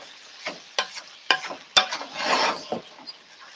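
Haluski cabbage frying in a pan, a soft sizzle with a spoon stirring and scraping in a few scattered strokes, close and fairly quiet, with no one speaking.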